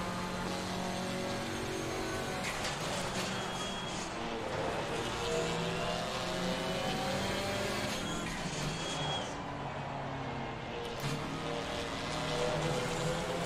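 GT4 race car at Hungaroring in Assetto Corsa Competizione, engine droning and rising and falling in pitch through slow corners in second gear, steady and moderately loud, with short gear-change dips.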